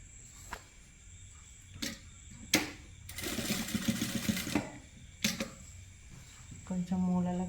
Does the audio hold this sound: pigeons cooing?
no